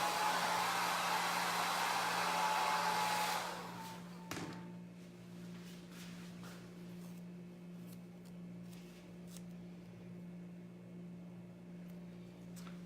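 A handheld hair dryer on a cool setting blows loudly and close for about three seconds, then shuts off with a click, leaving a quiet room hum and faint small handling sounds.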